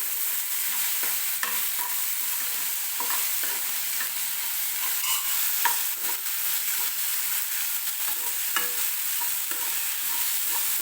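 Ginger garlic paste sautés with onion and tomato in a pan, giving a loud, steady sizzle with regular scraping stir strokes throughout and no talking.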